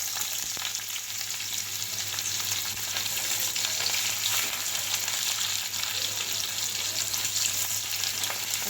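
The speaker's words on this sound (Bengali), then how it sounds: "এখন আমি পেঁয়াজটাকে ভালো করে তেলের মধ্যে ভেজে নেব" Chopped onion frying in hot oil in a pan on a gas stove, cooked for a small-fish chorchori: a steady, dense sizzle that runs unbroken and fairly loud, with faint stirring beneath it and no talk.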